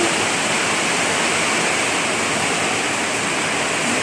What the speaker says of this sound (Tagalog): lumakas na talagang ulan